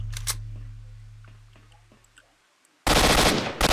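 Long-range gunfire in S.T.A.L.K.E.R. Shadow of Chornobyl: a couple of sharp shots early, then a low fading hum and faint distant pops before a sudden loud, dense burst of fire to the end.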